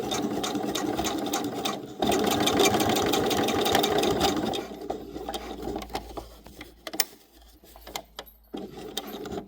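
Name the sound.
sewing machine sewing fabric patches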